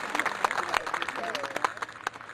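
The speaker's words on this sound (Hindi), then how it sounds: "अहमद हसन साहब, बेहद स्मार्ट, दिखने में अनिल कपूर जैसे, जोरदार तालियां इनके लिए।" A crowd at a political speech in Gorakhpur gives a brief burst of scattered clapping, faint and somewhat distant, mixed with voices.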